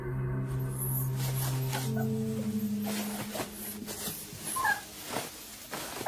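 A small white puppy, wounded with a cut like a claw slash, whimpers in thin, high, wavering whines and yips, fairly close over a steady background hum.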